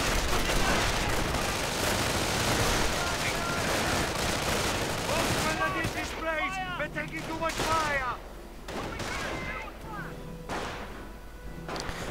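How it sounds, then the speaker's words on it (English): Dense battlefield gunfire from a WWII strategy video game: sniper shots and rapid rifle and machine-gun bursts crackle over a constant roar of combat, easing and thinning toward the end while a voice talks over the action. "Bit of sniper fire not quite hitting."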